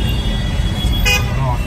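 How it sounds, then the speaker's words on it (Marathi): Heavy traffic on a bypass road near a fair, with a continuous low rumble of vehicles and a brief car horn toot cutting through partway, while someone talks over it. "हे बघा बायपास ट्रॅफिक"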